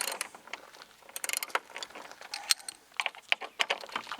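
A 13 mm socket on a ratchet loosens the horn mounting bracket bolt on a Sprinter van, giving rapid, close, irregular clicking and ratcheting ticks in short bursts.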